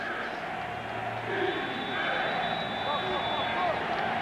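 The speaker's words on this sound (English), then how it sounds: "Crowd chanting Reggie, Reggie, and beat the Bears" Fans at a 1996 Chicago Bears at Green Bay Packers football game in the stadium chant together, a dense, steady roar of many voices that carries on without a break.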